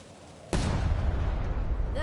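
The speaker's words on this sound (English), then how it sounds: "Ready for cannon firing." A ship's cannon fires once in Return to Monkey Island, a sudden loud boom followed by a sustained rumbling roar that fills the rest of the moment, with a faint tonal sound rising near the end.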